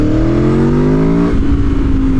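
A loud Aprilia Tuono 1100 Factory sport motorcycle engine winding up to high revs, its pitch climbing steadily before abruptly dropping off on deceleration into a rough, rumbling idle.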